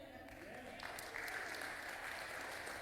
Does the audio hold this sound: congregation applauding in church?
yes